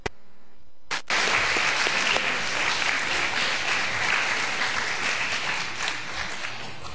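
A church congregation bursts into loud, sustained applause for the children after a brief quiet pause, many hands clapping together in a large room and carrying on steadily to the end.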